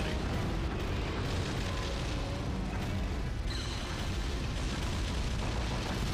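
Bombs explode in the Godzilla (2014) video game, a dense, continuous roar of booms and rumbling blasts that stays loud for several seconds with no clear gaps.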